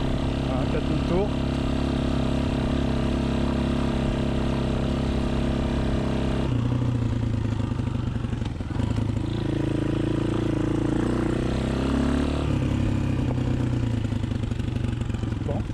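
A Honda XLR125R motorcycle engine idles up and holds a steady mid-range speed around 4000 rpm, a continuous loud hum with a layered mechanical drone and slight shifts in pitch partway through.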